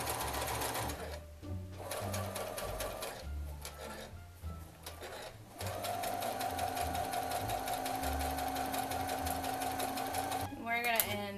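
A sewing machine stitches a seam in fur fabric, its rapid mechanical whirr starting and stopping in bursts before running steadily, with a person talking over it.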